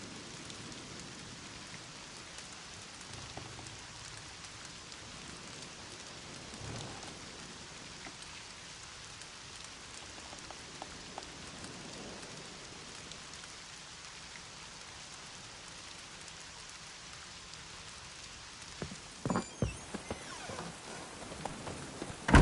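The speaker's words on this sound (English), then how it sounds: "Looks like rain." Rain pattering on surfaces in the fantasy game The Witcher 3: Wild Hunt, a soft continuous hiss with scattered drops and a few louder knocks near the end.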